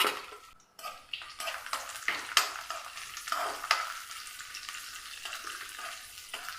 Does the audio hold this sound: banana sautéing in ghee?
yes